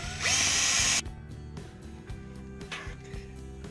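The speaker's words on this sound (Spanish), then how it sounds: "Vamos a abrirle un agujerito aquí para poder ponerla." A power drill bores a small hole in a plastic tray for a homemade fuel-injector cleaning rig, a loud, close whine lasting about a second before quieter handling noises.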